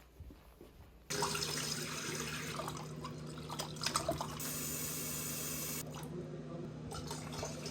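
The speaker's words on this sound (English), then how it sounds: "and then put some more fresh water in here" Fresh cold water pours steadily from a tap into an axolotl's container, a continuous close splashing stream that starts abruptly and runs without a break, with no talking.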